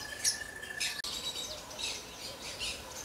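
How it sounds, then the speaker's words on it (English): Small caged parrots, not budgies, chirp and tweet steadily in quick, overlapping high calls, moderately close, with no talk. "I don't know what these birds' name is. There's nothing on the cage here, but they are beautiful."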